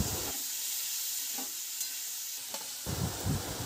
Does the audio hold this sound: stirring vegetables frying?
yes